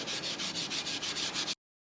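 Scotch-Brite pad scrubbing the surface of a 1934 Chevrolet flywheel, quick rhythmic back-and-forth rasping strokes, close and fairly loud, stopping abruptly after about a second and a half.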